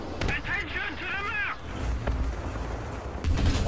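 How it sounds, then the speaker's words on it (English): Tank cannon fire booms into smoke during a tank battle video game, with heavy blasts and rumbling under a player's voice and radio-like game chatter. "I'm gonna fire blindly into the smoke"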